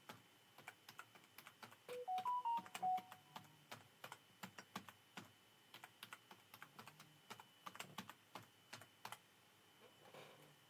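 Someone types a password on a computer keyboard while demoting a Windows Server 2025 domain controller: a quiet, irregular run of key clicks over about ten seconds, alone in a still room.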